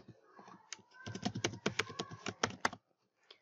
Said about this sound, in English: And below, type in the password.